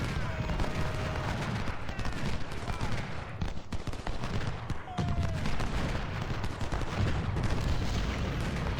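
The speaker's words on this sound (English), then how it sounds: "Flanking fire from all around." Heavy musket and artillery fire in Ultimate General: Civil War while storming a mountain pass, a dense, continuous roar of overlapping volleys and booms that never lets up, with faint game voices mixed in.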